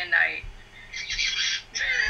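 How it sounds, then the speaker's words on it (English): A pet bird squawks in shrill, rasping bursts close by, broken by brief pauses, in an indoor setting during a podcast recording. "now I have a bird talking on my head"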